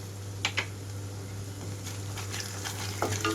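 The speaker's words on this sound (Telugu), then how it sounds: "కొంచెం ఫ్రై అవుతున్నప్పుడే ఇందులోకి అల్లం వెల్లుల్లి పేస్ట్ వేస్తున్నాను 1 స్పూన్ వరకు" Onions frying in a pan as ginger garlic paste goes in, a steady close sizzle with a few sharp clicks of a spoon against the pan, and a constant low hum underneath.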